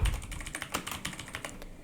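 Quick, light clicking of keys on a computer keyboard while entering text, a close, fairly quiet run of irregular taps with no talking.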